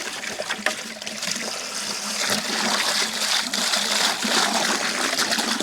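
Water gushes and sloshes inside a 5-gallon bucket as it is rinsed out on a pig-keeping homestead, a steady splashing rush that swells louder after the first couple of seconds, with no talking.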